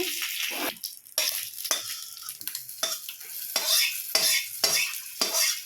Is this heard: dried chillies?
yes